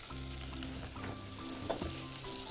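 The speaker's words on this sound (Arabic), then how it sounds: "الزبدة بتاعتنا هتبدأ تسيح." Butter melts and sizzles in a pan, a soft steady frying hiss with faint stirring scrapes, fairly quiet and without voices.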